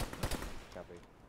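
Gunfire in the ShackTac military video game, a short cluster of sharp automatic shots at the start that fades to quieter, more distant reports, with voices mixed in.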